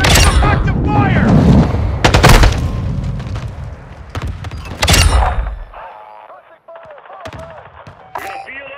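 Close, dense automatic gunfire and explosive bursts fill a Call of Duty: Modern Warfare II ground war match. Shouted voice callouts play over the shooting before the firing drops away to sparse distant shots.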